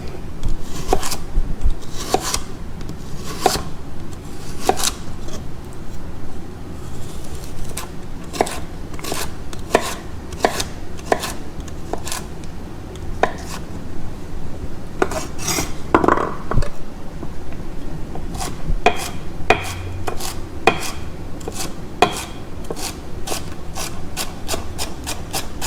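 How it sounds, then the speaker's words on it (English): A knife slices through a carrot on a cutting board in a long series of crisp, sharp chops, irregularly spaced and close, with soft rubbing and scraping between cuts. "So the way you cut a carrot, just cut a little piece off"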